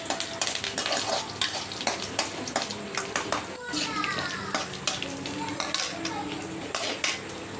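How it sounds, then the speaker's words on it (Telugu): Peanuts, curry leaves and green chillies frying in a pan for poha, stirred with a spoon that scrapes and clinks against the metal in quick strokes over a continuous sizzle, with talking over it. "శనక్కాయ గింజలు వేసుకుందాం. కరివేపాకు వేసుకుందాం. పచ్చిమిర్చి వేసుకొని బాగా కలుపుకుందాం."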